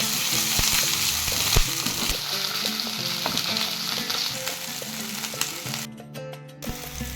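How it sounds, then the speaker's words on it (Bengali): Chopped onion with garlic and ginger pastes frying in hot oil, a steady close sizzle with crackles and occasional spoon scrapes against the pan, ending in a brief stir. "এখন একে একে এর মধ্যে পেঁয়াজ কুচি, রসুন বাটা, আদা বাটা দিয়ে একটু ফ্রাই করে নেব।"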